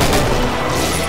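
Gunfire in the video game Killing Floor, a dense, loud, continuous burst of shots held for about a second.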